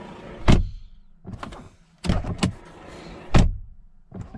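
Frameless power windows on a Mercedes EQE AMG 43 electric car run in several short bursts of motor whir, each ending in a firm thunk as the glass seats. The sounds are close and loud with quiet gaps between them.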